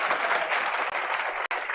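A class audience claps in a dense, steady patter that holds for nearly two seconds, with a couple of brief dips near the end.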